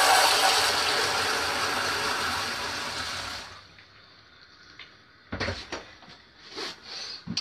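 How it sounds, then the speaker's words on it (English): Paint brushes washed in water, a loud rushing splash and slosh for about three seconds that fades out, followed by a few sharp knocks and clatters nearby. "Wash your brushes, Mallet."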